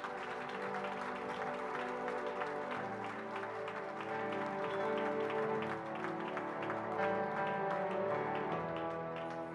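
A church congregation applauds together to acclaim Jesus, a dense, steady wash of clapping lasting throughout with a sustained musical drone underneath.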